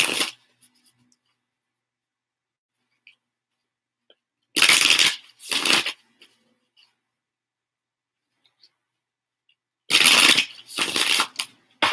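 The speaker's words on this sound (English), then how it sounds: "One more shuffle." Tarot cards being shuffled in a few quick riffling bursts, close and crisp, separated by stretches of near silence.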